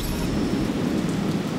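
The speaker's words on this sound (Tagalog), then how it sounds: "biglang bumuhos ang malakas na ulan sa Metro Manila." Dense, steady rain pours down on Metro Manila in a continuous heavy roar, with a low rumble beneath it.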